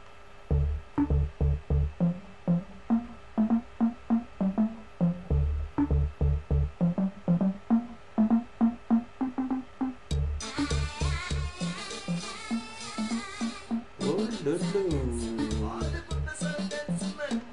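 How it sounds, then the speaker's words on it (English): A Kwaito South African house track with a steady thumping kick beat and chopped synth stabs, shifting midway into a denser, brighter section with swirling vocals or leads. "Kwaito is a South African genre of house music"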